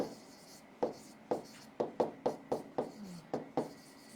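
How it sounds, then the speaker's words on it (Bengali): Marker or chalk strokes on a classroom board, about a dozen short scratchy taps and swipes in an uneven rhythm, close and fairly quiet, with no voice over them. "আচ্ছা বাংলায় লিখি"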